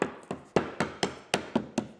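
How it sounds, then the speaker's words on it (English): Hammer shaft tapping lead flashing to dress it on a roof, about eight sharp, evenly spaced knocks with a dull metallic thud, close and clear with no talk. "a lead tool is ideal for dressing the flashing, but a hammer shaft can also be used to good effect"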